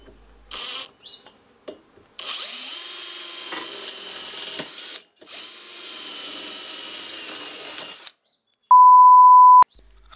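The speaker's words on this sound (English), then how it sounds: "Drill pilot holes through the rails at the other end." A power drill bores pilot holes through wooden lathe rails in two sustained whirring bursts separated by short pauses, followed by a sharp electronic beep near the end.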